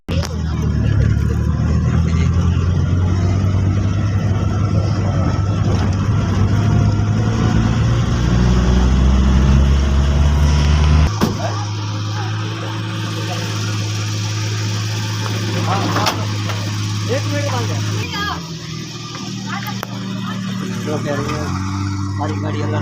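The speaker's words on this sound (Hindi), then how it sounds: "लो जी हमारी गाड़ी स्टार्ट हो गई।" A car engine idles steadily after starting, a loud, low droning hum with a shift in pitch midway, on a roadside trip home from a wedding after the car broke down. Voices talk over it.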